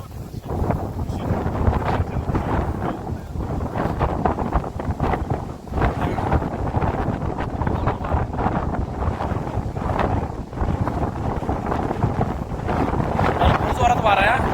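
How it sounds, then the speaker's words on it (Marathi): Strong wind roars through trees on a mountain trek in Ratnagiri, a loud continuous gusting rush with heavy buffeting on the microphone. "ह्या झाडामधून वारा जातो त्यावेळेला आवाजच खूप भयानक येतो."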